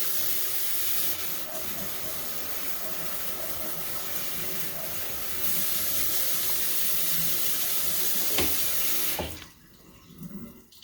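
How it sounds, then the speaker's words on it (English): Cold water runs steadily from a kitchen tap as food is rinsed at a sink, a continuous close splashing rush that shifts slightly partway through, then stops abruptly near the end, leaving a quieter tail. "And now I'm gonna rinse this with cold water."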